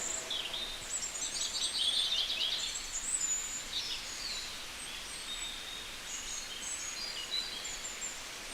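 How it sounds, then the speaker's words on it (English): Small birds chirp and twitter in short bursts, fairly faint and scattered, over a soft rustling outdoor background. "The birds chirping,"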